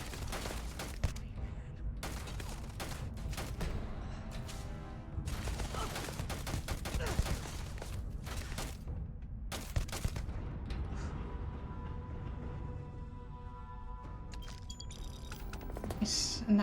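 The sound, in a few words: gunfire from enemies shooting at the player in a space video game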